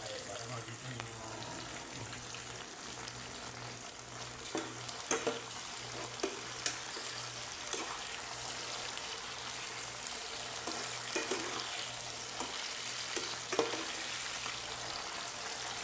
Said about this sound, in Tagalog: Pero luto muna tayo ng french fries.